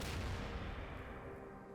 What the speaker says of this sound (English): We got the grenade explosion.